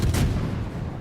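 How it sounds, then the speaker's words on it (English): Naval artillery booming from the battleship New York in the World of Warships game, one heavy deep blast opening and then a rumbling decay lasting about a second, loud and close. "Firing on the New York here."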